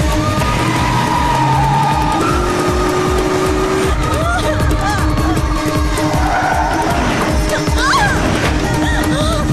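A vehicle skids during a road accident, with tire squeal and engine noise running loud and continuous for several seconds under voices and a busy street background.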